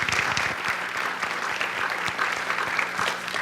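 Sustained applause from a convocation audience: dense, even hand clapping with slight crowd murmur, continuous and fairly loud throughout.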